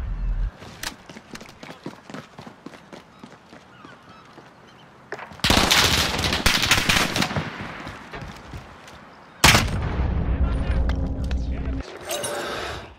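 Rapid automatic gunfire in a first-person shooter, with dense crackling bursts and two loud, close volleys near the middle and end, over quieter background shots and brief voice chat.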